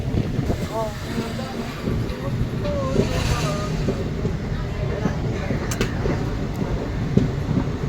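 Rumbling train noise with a steady low roar and faint rhythmic clatter, people talking over it nearby, with a few higher squeals and clanks.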